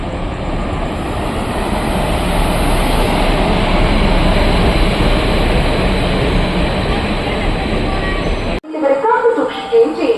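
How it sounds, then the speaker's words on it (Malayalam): A loud, steady rumble of a train arriving at a railway station at night fills most of the clip, rolling continuously without letting up, then cuts off abruptly as brief voices take over. "ട്രെയിൻ വരുന്നുണ്ട്"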